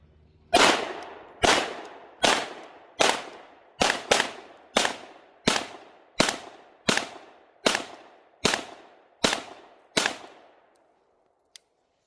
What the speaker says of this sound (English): we're going to drop the slide and we're going to send a few rounds